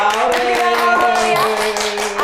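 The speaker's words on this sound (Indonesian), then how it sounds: "kita berikan tepuk tangan lagi" Studio audience clapping for a guest on an Indonesian talk show about disasters; a dense burst of hand claps runs steadily for about two seconds over a background musical tone.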